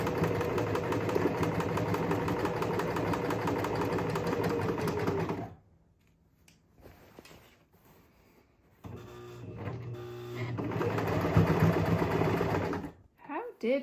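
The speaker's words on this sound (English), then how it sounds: "So I can stitch around here." A sewing machine stitches a men's button-up shirt in rapid, rattling bursts, running loudly, pausing briefly, then starting again close by.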